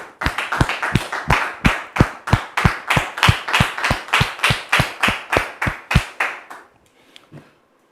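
A studio audience claps in slow unison, about twenty sharp, evenly spaced claps ringing out before stopping, followed by faint background sound.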